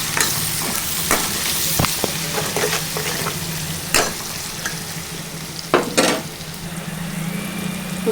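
Chenchela leaf curry with turmeric being stirred in a hot pan, a steady sizzle and frying hiss beneath repeated scraping and clinking of a spoon against the pan, close and fairly loud.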